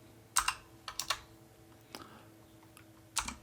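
A computer keyboard is typed on in short, separate clusters of crisp key clacks with quiet pauses between them, close and clear against a faint hum.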